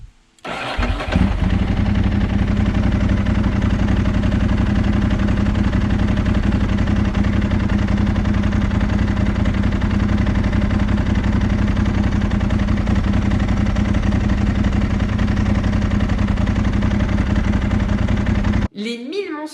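Ducati Monster 1000 from 2003–2004 fires up and settles into a loud, steady idle while still cold; the throbbing twin-cylinder rumble runs continuously close by, then cuts off abruptly near the end.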